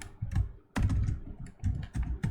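Code typed on a computer keyboard while programming an ESP32 serial monitor sketch, with a close, steady patter of key presses broken by one short pause and no talk.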